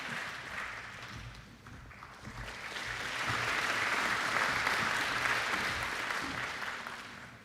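An audience at a university graduation ceremony applauds, the clapping swelling from moderate to a full, sustained ovation before easing slightly, heard from within the hall.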